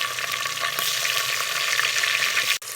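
Onion and ginger-garlic paste with finely chopped tomatoes fry in a pan, giving a loud, continuous broadband sizzle that cuts off abruptly near the end, with no talk.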